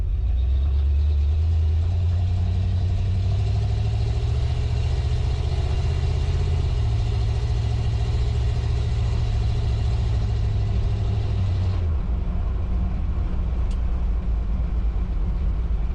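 Jeep Wagoneer engine with a junk carburetor running while driving, a steady close low drone that drops off abruptly near the end, no talk.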